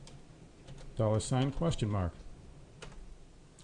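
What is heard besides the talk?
typing on a computer keyboard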